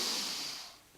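A person draws in one brief, breathy inhale during a yoga stretch, close and airy, fading out within a second.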